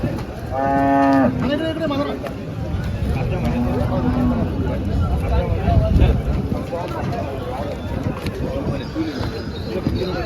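At a cattle market in Chalisgaon selling HF, Jersey and cross cows, cows moo loudly and repeatedly over a busy crowd murmur and people talking nearby, with a bright, long low at the start.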